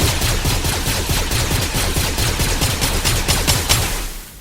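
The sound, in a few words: gunfire in the video game Fortnite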